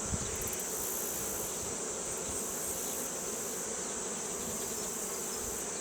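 Honeybees hum in an open hive with a dense, steady buzzing swarm that stays close and constant throughout, with no voices.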